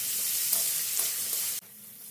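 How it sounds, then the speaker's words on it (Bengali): Chopped onion stir-fries with potatoes in a kadai: a steady, close oil sizzle with soft stirring scrapes, which drops abruptly to a quieter hiss near the end. "পেঁয়াজ কুচিটাকে আলুর সাথে খুব ভালো করে নেড়েচেড়ে ভেজে নিতে হবে।"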